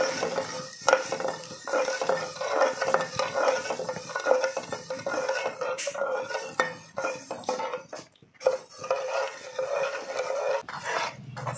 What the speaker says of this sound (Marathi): 1 तारी आता पाक बनवून घ्यायचा आहे